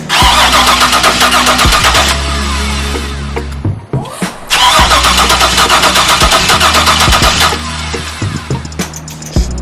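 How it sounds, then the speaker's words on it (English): A 6.0 LS-swapped C10 truck engine cranks loudly and repeatedly without catching, with a steady rhythmic starter churn in two long bursts broken by a brief pause near the middle. "Still ain't firing up"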